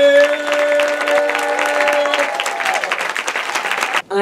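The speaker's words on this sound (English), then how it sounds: "Please put your hands together and use your whole hand and applaud until she makes her way all the way to the stage." Audience applause at a film expo awards event, steady sustained clapping from a crowd with music tones underneath early on, continuing for several seconds before a brief dip near the end.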